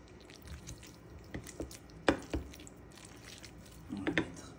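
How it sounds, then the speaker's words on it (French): Avocado mashed for salmon-avocado toast, giving soft, irregular squishing and a few sharper taps from the utensil against the bowl, close and fairly quiet with no talk. "Je suis en train d'écraser mon avocat."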